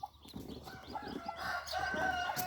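A hen clucks close by among chicks, giving short repeated clucks and calls over faint background clatter, with the sound growing slightly louder toward the end.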